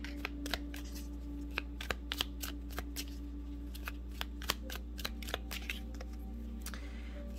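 Mini Starseed Oracle cards are shuffled by hand, giving quick crisp riffles and flicks over a constant low hum, with no talking.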